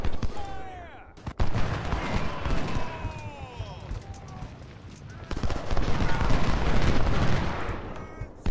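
Massed musket and cannon fire in the Civil War strategy game Ultimate General: Civil War during an assault on a Potomac fort, with loud crackling volleys and booms rolling continuously, briefly dipping before surging again.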